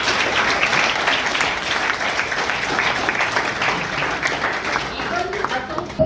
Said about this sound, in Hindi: जैसे ही हॉल में पहुंचे बच्चों ने तालियों की गड़गड़ाहट के साथ अशोक गोयल मंगालीवाले का स्वागत किया